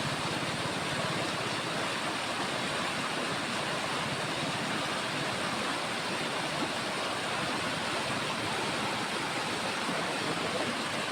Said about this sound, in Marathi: धरण भरून पाणी खाली चाललं आता